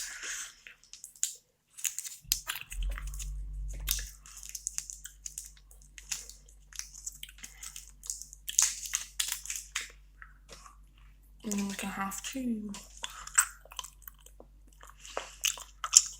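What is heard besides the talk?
chewing gum being chewed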